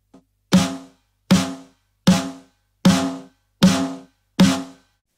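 Six evenly spaced snare drum hits from a stoner rock recording, each hit tightened by envelope processing so the ring cuts off sooner, loud and upfront.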